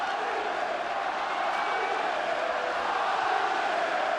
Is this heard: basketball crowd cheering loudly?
yes